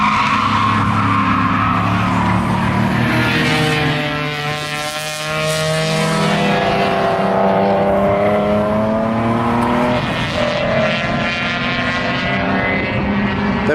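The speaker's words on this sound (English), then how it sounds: "That BMW sounds nice." BMW E46 race car driven hard on the Mid-Ohio track at a GRID LIFE event, its loud engine note rising and falling in sweeping harmonic revs across the whole stretch, with tire skids mixed in and no talk.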